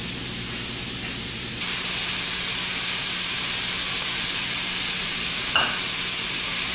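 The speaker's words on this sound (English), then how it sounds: "So while we're frying up that sausage" Sausage for keto omelette muffins sizzling in a pan produces a steady, loud frying hiss that jumps up in intensity partway through, then continues unbroken with a brief clink near the end.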